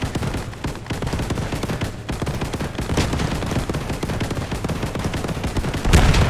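Heavy flak gun and machine gun fire in Post Scriptum during a 1944 battle at Sainte-Mère-Église, dense continuous bursts of automatic shots with a louder blast near the end.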